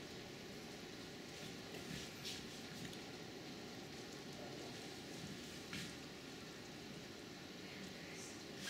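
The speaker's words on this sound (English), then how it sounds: "Now it's turning into moderate rain." Moderate summer rain falls in suburban St. Louis, Missouri, making a faint, steady hiss of drops with a few soft spatters, and no voices over it.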